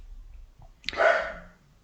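A dog at home gives a single short bark, close and clear, in an otherwise quiet room.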